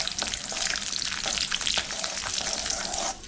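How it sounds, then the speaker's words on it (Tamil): Mustard seeds, urad dal and chana dal fry in hot peanut oil for masala sundal, giving a dense, steady, close sizzle with faint crackles throughout. "இது நல்லா வதக்கி விட்டுக்கினே இருக்கணும்."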